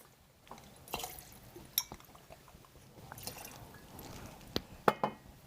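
Hartman's gin, 1.5 ounces, pours into a glass while a Halloween cocktail is mixed: a faint, low trickle of liquid with a few light drips and clinks, quiet and mostly alone.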